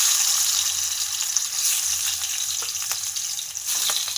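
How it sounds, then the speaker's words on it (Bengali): Turmeric- and salt-rubbed fish fries in hot oil, a loud continuous crackling sizzle close by with scattered sharper pops and spits throughout, no voices. "তো এখানে মাছটা ভাজা হচ্ছে"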